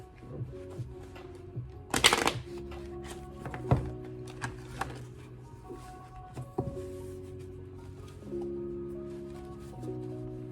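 Tarot cards are shuffled in a few short, crisp riffles and taps, with soft thumps between them over a quiet background tone.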